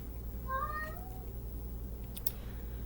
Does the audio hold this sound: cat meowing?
yes